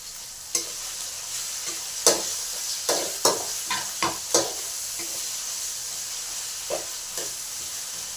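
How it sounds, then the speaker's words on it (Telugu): Brinjal and curry leaves fry in a pan for a home-made curry, a steady sizzle broken by several sharp scraping stirs near the start and middle and two more toward the end. "ఇప్పుడు వంకాయ కరివేపాకు మస్తనాలు వేసి వేయించండి."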